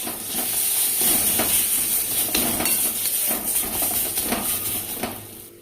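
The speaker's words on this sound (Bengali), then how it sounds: "এবার নাড়াচাড়া করে ভাজা ভাজা করবো।" Pointed gourd leaves with pea lentils, turmeric and salt are stir-fried in a pan, a close, steady sizzle with repeated scraping spatula strokes that fades slightly at the end.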